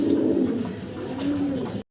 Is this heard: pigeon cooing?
yes